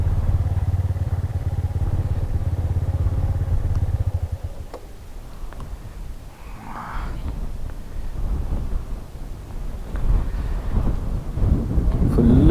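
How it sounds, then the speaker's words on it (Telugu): Strong wind sweeps across a hilltop near windmills in Munnar during a motorcycle ride, producing a loud, steady low rumble and gusty buffeting close to the microphone that eases briefly and then surges back. "ఫుల్ గాలి వస్తుంది ఇక్కడ"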